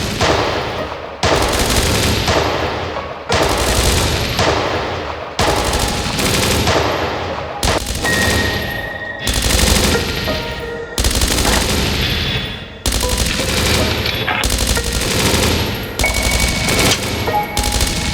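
Gunfire in the video game Dreams of Another: loud, sustained bursts of automatic fire, each lasting a couple of seconds and separated by brief pauses, continuing throughout.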